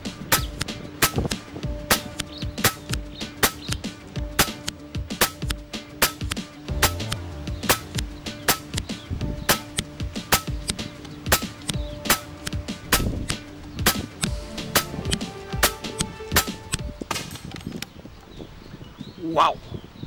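An FX Impact air rifle firing 25- and 30-grain H&N pellets at a 100-metre target outdoors in wind: a long run of sharp, evenly spaced shots with mechanical clicks, fairly close, fading near the end.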